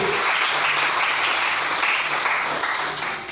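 A church congregation breaks into sustained, dense applause for the Lord, loud and steady throughout with no voices standing out.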